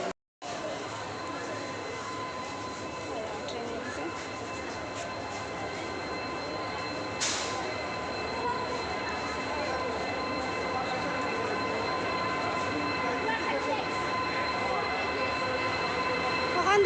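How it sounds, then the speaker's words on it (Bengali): A steady mechanical rumble and hum of a train at a station during flooding persists throughout, with one brief high metallic squeal partway through and a slight swell near the end. "আর ট্রেনও আই গেছে"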